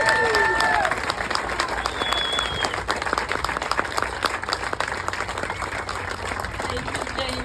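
A crowd at a community meeting about the Hurricane Helene recovery claps in a dense round of applause that starts loud and settles into steady, sustained clapping, with voices and a brief whistle mixed in.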